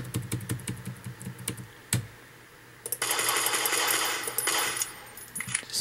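A computer keyboard is tapped in quick, light clicks during a game, followed by a louder stretch of rapid metallic clatter and a few final taps.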